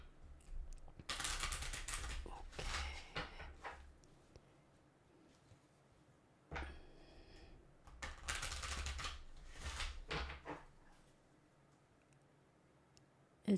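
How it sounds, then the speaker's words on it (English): Playing cards are riffle-shuffled twice, each time a quick crisp flurry of flicking followed by a soft tap as the deck is squared. No one speaks. "I have time to shuffle, so I'm going to shuffle."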